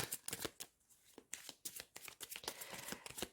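Tarot cards shuffled for a reading: a soft, close riffle of papery flicks and slides in uneven bursts, faint and without talking.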